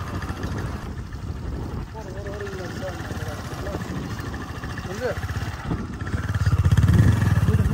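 A motorcycle engine drones steadily up close on a road near Muchapur sea beach, Noakhali, growing louder toward the end as the bike skids, while a person talks over it.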